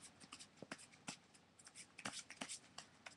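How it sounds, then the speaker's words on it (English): A deck of playing cards is shuffled in quick, irregular bursts of riffling and flicking, close and fairly quiet, with no talking. "Alright, back to shuffling."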